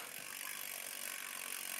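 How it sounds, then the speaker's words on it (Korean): A bicycle rear wheel hub ratchet clicks rapidly as the wheel spins freely, a fine, continuous buzzing tick that is quiet and close with no talk over it. "라쳇 소리 들려드리겠습니다."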